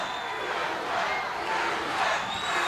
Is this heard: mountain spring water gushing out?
no